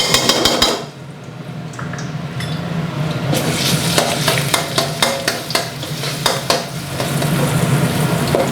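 Rapid metallic scraping and tapping of a spatula in a wok over a steady sizzle of frying pounded garlic and peppercorns, in quick rhythmic strokes.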